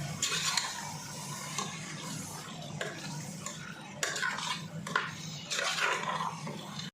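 Beef gravy gets stirred in a pot, a spoon scraping and clinking against the metal in repeated strokes over a low bubbling background, fairly close and with no talking.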